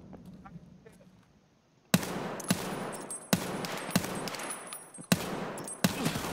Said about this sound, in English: He's shooting at me.